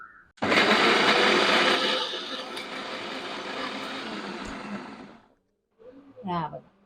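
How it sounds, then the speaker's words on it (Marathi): An electric mixer grinder grinding green chillies to a fine paste, a loud close whirring roar that starts abruptly, eases to a lower steady whine and cuts off, followed by a short voice. "आता ह्या झाकण लावते आणि वाटून घेते एकदम बारीक वाटायचा"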